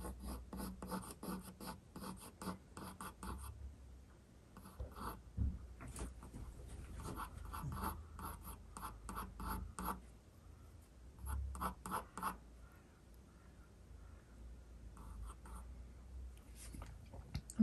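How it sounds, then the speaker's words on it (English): Coloured pencil scratches on paper while a spaniel drawing is shaded, in soft rapid bursts of short strokes separated by brief pauses, close and quiet. "I'm just going to make these pencil markings a little bit more faint as well."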